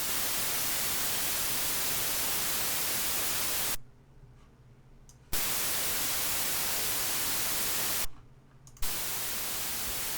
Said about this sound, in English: go to noise, which I think is a somewhat quieter noise than you get out of TPDF